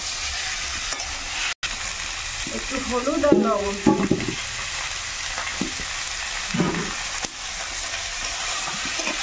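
Dried red chillies frying in oil in a home kitchen, a steady hiss and sizzle running throughout with occasional stirring clatter, while someone speaks briefly over it.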